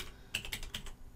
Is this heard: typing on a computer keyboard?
yes